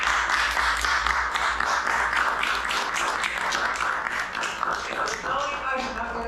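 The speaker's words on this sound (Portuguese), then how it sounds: "Aplausos, pessoal." An audience at a meeting gives a round of applause, dense clapping loud and near that tapers slightly toward the end, with voices mixed in.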